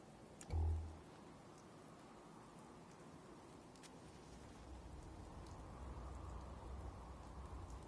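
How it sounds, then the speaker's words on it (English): Steady rain in the video game Fallout 4 patters and hisses at a low level, a soft thump near the start, then the downpour continues evenly without any voices. "This rain is gonna ruin my notes!"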